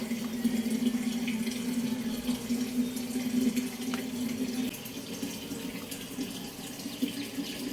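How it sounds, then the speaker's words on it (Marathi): Ripe mangoes being rinsed clean in water for aamras, a steady running-tap and splashing wash sound, fairly close and continuous with no talking. "हे आंबे जे आहेत ते आपल्याला स्वच्छ असे मस्त धुवून घ्यायचे आहेत"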